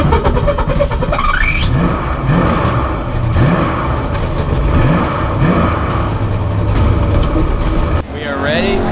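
Drag race cars roar through a loud, sustained engine run with repeated rising revs as they launch and accelerate, a dense close-up engine wall that drops away sharply near the end, with voices mixed in.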